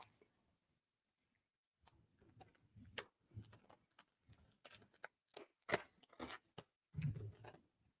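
Scissors cut open a plastic bag of large beads: a run of crisp, close snips and crinkling clicks, irregular and fairly quiet, with short pauses between cuts and no speech.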